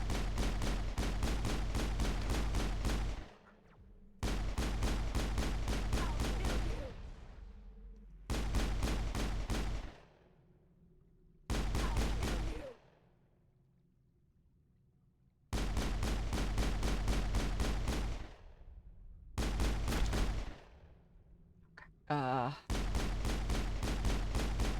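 Gunfire from shooting enemies in a video game comes as repeated bursts of rapid automatic shots, several seconds each, broken by short quiet gaps. The volleys are loud and close, with a voice speaking now and then.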